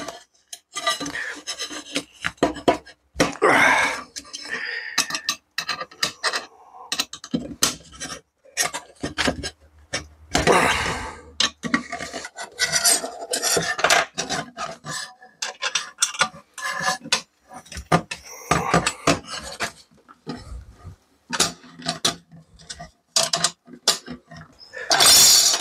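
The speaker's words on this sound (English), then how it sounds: "with a little bit of difficulty, I removed all the screws." Screws are worked loose from the aluminium protection plate of a Tongsheng TSDZ2 e-bike mid-drive motor, giving close, repeated metallic scraping and rasping in uneven bursts with brief gaps between turns.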